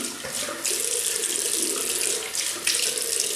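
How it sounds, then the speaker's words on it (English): Tap water runs steadily into a sink as a Gillette Fatboy safety razor is rinsed of West Indian Limes shaving soap, a close, continuous splashing stream with slight surges in flow. "So I'm just going to rinse that now, and that takes all the slickness of the soap"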